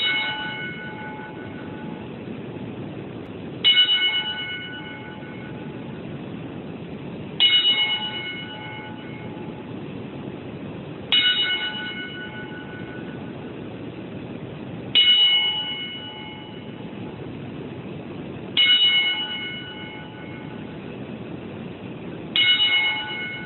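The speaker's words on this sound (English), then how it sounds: "10-bell salute." Ten-bell salute for 9/11 remembrance: a single bell struck at slow, even intervals of about four seconds, each clear metallic strike ringing out and decaying before the next, with no talk.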